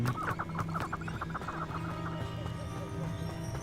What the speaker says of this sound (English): It's those chickens again.